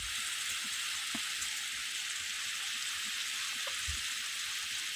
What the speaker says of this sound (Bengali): কাটে রাখা কুমড়ো দিয়ে দিলাম, দিয়ে আমি কিছুক্ষণ নাড়াচাড়া দিয়ে একটু ভেজে নিলাম